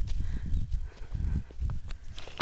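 Horse hooves clip-clopping on the ground at a stud farm where an Arabian horse is near a mare, a steady series of close, low thuds with a faint voice now and then.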